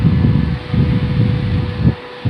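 A battery USB mini fan runs at speed 2, giving a close, steady whooshing blow with a faint motor whine. Breathy rushes of air over the microphone pulse through it.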